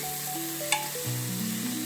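Peanuts, carrots and tomatoes being mixed in a sizzling pan for khichdi, a faint steady fry hiss with one brief clink of a spoon, under a sustained background music tone.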